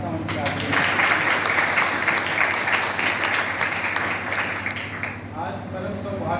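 Applause from the audience at a school tablet-distribution ceremony, steady and dense across the clip with a hum underneath, easing toward the end.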